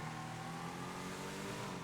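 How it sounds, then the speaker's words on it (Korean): A car engine in GTA 5 drones loudly and steadily at a constant pitch, a continuous rumbling tone with no pauses and no talk over it. "엔진 소리는 우렁찬 편이라"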